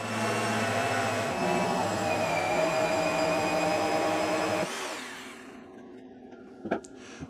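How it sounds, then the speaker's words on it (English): A jigsaw cutting through the wooden end of a workbench, a loud, steady buzzing whine that runs for several seconds, then winds down to quiet, followed by a few light knocks. "I'm using a jigsaw to make this cut"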